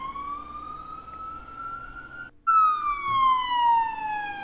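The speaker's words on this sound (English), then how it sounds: "Run that siren, baby." A siren wails close and loud, a rising tone that cuts off briefly and then resumes with a falling sweep, alone without any voices.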